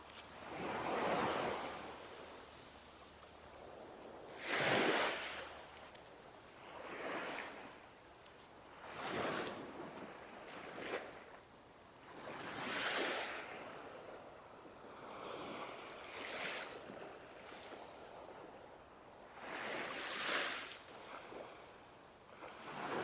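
Ocean waves at Sunny Isles Beach, Florida, roll in and break in slow repeated surges every few seconds, with a steady wash and some wind noise between them, moderately far off and with no voices.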